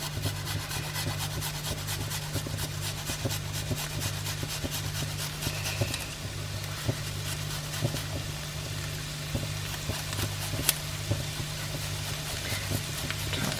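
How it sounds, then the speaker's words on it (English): Garlic is grated by hand for Mexican-style beef loaded wedges, a steady run of close, rhythmic rasping strokes repeating evenly for several seconds without talking. "Just need to pop my peppers in and grate my garlic."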